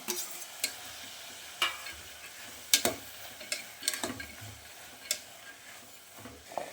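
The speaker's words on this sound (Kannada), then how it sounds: "ಈಗ ಇದು ಅವರೆಕಾಳನ್ನು ಹಲಸಿನ ಬೀಜ ಅದ್ರ ಜೊತೆಗೆ ಮಿಕ್ಸ್ ಮಾಡೋದು" Field beans and jackfruit seeds stirred in an oily pot, with a steady low frying sizzle under repeated scraping spoon strokes and light clinks at an uneven rhythm.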